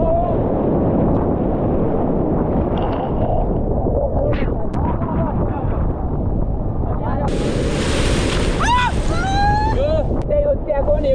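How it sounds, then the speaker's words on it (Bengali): Big sea waves crash and rumble on Digha beach in a constant roar under heavy wind buffeting the microphone, while people talk and shout over the surf. "দেখো কি বড় বড় ঢেউ আছে"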